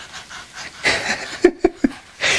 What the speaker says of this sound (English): He's panting like he's sweating up a storm.